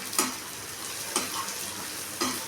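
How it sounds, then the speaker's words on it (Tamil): Bottle gourd chutney sizzles in a pan as it is sautéed. A soft, steady fry sound is broken by three evenly spaced scrapes or stirs of a utensil against the pan. "சட்னி நல்லா வணங்கணுங்க. இந்த பச்சை வாசம் போகிற வரைக்கும் நல்லா வணக்கினாதான் இந்த டேஸ்ட்டாகவே இருக்குங்க."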